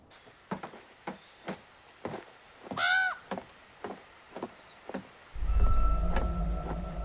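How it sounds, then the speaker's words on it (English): Crow cawing in The Quarry horror video game: a steady series of about nine short, sharp caws spaced roughly half a second apart, with a brief squeal midway, before a low rumbling drone swells in at the end. "that crow's been kind of creeping me out"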